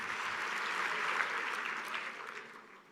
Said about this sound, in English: Another round of applause for Captain Tebogo, Letsile.